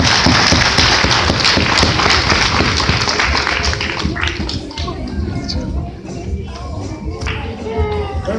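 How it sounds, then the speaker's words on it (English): An audience at a magic show breaks into loud, dense applause that fills the room and then slowly thins toward scattered claps and crowd murmur. "Give them a big round of applause."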